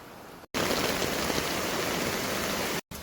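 Rain falls near Vattappara waterfall, a dense, close hiss of water that runs steadily between two brief silent cuts, with no talk.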